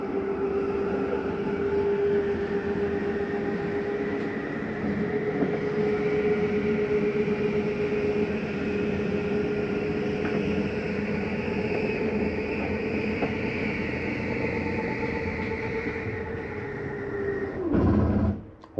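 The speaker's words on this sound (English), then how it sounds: "That's just the slide mechanism telling you I'm in all the way, or sometimes out all the way." Slide-out mechanism on a 2023 Flagstaff Superlite 26RBWS travel trailer retracting with a steady electric motor whine and drone for many seconds, ending in a louder thump as it reaches fully in.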